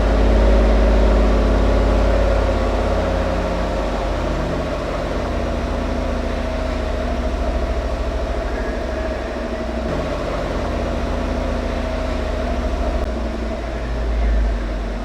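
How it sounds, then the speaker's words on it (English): A 1986 Pontiac Fiero GT with a V8 and non-stock exhaust runs with a steady, deep rumbling drone close by, heaviest at the very start and holding an even, throaty tone with no talking over it. "Not too loud, but loud enough that you know it's a V8."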